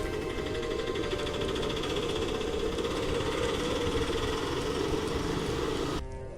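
An auto rickshaw engine idles steadily at close range, a continuous buzzing rattle with no one talking, then cuts off abruptly near the end.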